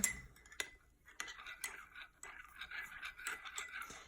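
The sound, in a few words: mixing instant coffee in a cup with a teaspoon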